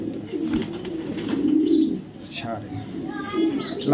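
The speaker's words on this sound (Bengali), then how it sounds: "অনেক বড় সাইজের কবুতর ভাই এগুলা" Large racing pigeons coo in low, throaty rolls close by, with a few faint chirps and some soft background murmur.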